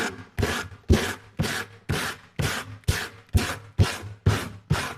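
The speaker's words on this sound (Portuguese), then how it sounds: "Eu peguei aqui uma lixa grossa, essa é a 60, de madeira mesmo, de madeira de parede. Ó, eu vou lixar aqui." Coarse 60-grit sandpaper rasps across wood in about ten even, rhythmic strokes, each a close, gritty scrape with short pauses between, alone without talk.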